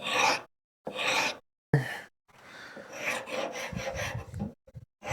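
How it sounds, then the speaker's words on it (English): A small wood rasp works across a tabletop surface in rhythmic strokes, three short rasping bursts separated by pauses, then a longer continuous scraping run, close and moderately loud with no talking. "The smaller rasp will do a better job, keeping that nice and even."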